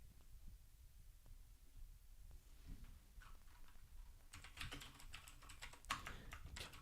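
Quiet typing on a computer keyboard, a patter of soft clicks that grows busier and a little louder toward the end, over a low background hum.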